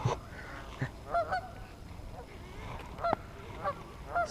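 Geese honking near a fishing spot as a dog chases and scares them, a flurry of repeated nasal honks at mid distance with a faint voice in the background.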